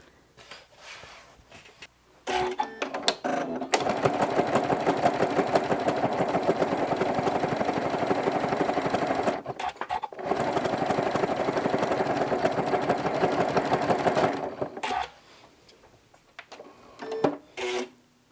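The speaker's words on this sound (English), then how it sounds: "you're going to be stitching with a 1/4 inch seam" Sewing machine stitching a fabric pumpkin with a 1/4 inch seam, running in two long steady bursts of fast rhythmic whirring, close and loud, with a short pause between and quieter handling at both ends.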